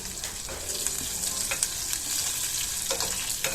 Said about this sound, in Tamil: ஸோ நல்லா ஃப்ரை ஆயிடுச்சு